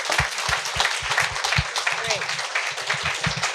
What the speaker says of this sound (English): We're going to have a round of applause,